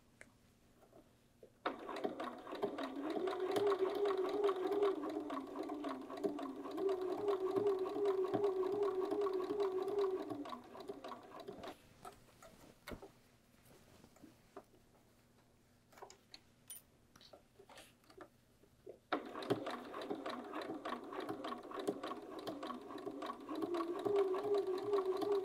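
Sewing machine stitching bias binding onto bag handles, running in two steady, close whirring stretches with a quiet pause between, no talking.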